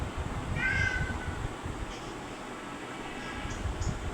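A cat gives a couple of clear, fairly close meows over a low background hiss, with faint fainter chirps later in the recording.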